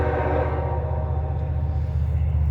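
A train passing a crossing, its low rumble of wagons rolling steadily and loud throughout with a sustained tonal horn blast layered over it.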